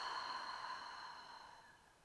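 During a hypopressive core and pelvic floor exercise, a long, soft, airy exhale trails off gradually, faint and close, with no talking over it.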